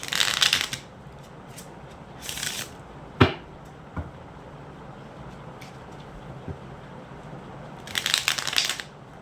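Tarot cards are riffled in quick, crisp bursts, separated by quieter stretches with a couple of soft taps, close by.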